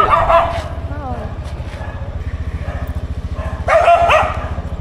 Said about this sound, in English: This dog is over here causing trouble.